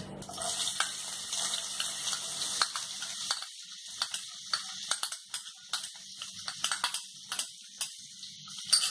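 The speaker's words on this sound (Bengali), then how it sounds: "পেঁয়াজটা আমি একটু হালকা ভেজে নেব।" Chopped onion frying lightly in a pan for poha pulao, a thin close sizzle that fades as sharp spatula taps and scrapes punctuate it at an uneven rhythm.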